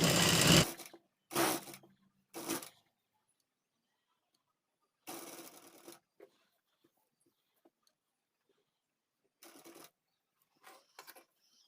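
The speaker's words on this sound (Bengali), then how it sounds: "এটাকে এর উপরে একটা চাপ সেলাই দিয়ে নেব" A sewing machine stitches a baby frock in short separate runs with pauses between, the first run the loudest and the later ones softer.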